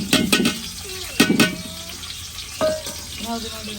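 Onions frying in a pot for biryani, a soft sizzle and stirring scrapes with a few clattering knocks, while people talk quietly nearby.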